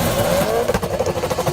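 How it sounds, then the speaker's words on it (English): A car engine revs hard and close, a loud rising roar that surges and pulses through a short burst with no voices over it. "another car pulls up and starts revving its engine"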